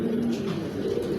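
A male stone-eyed pigeon gives a low, throaty coo that swells and rolls in one continuous phrase, close and fairly loud, with no voices.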